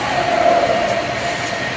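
Kavi Subhash metro station on Kolkata's Orange Line fills with a steady, loud rumbling hum and a faint sustained tone, with no clear voices.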